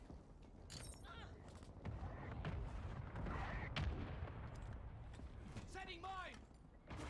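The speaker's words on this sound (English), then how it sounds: "Mortar strike inbound." Mortar strike explosions in a military shooter game, dull booms and thuds landing among clicking mechanisms, with radio-style voices talking over them.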